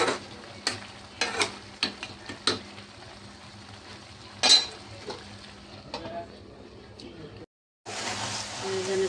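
A utensil stirs pangas fish and leafy greens in a pan, tapping and scraping against the metal in irregular clinks. A soft sizzle runs underneath, and a voice talks over the cooking.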